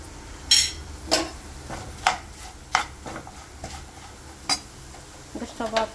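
Salt and chili powder being stirred into fried potatoes in a pan, with a handful of sharp spoon clinks and scrapes against the metal at uneven intervals over a faint sizzle, close by.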